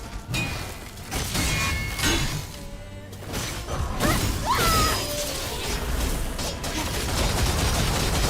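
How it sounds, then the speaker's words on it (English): A staff-wielding enemy in a video game spins his staff to block incoming bolts, giving off quick whooshes, metallic clinks and bursts of impact clatter over a busy, layered game soundscape. "He can block the bolts because he's spinning his staff."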